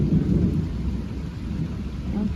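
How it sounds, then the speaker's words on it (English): Thunder rumbles low and continuous through steady rainfall from Hurricane Hilary in Delano, California, a deep rolling sound under the hiss of rain, with no voices. "Oh hell no, you can hear the thunder."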